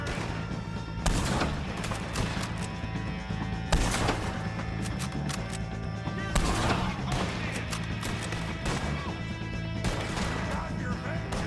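Gunfire in the Red Dead Redemption 2 video game during a wagon chase, with dense, continuous volleys of shots and loud bursts over steady noise, with game voices shouting at times.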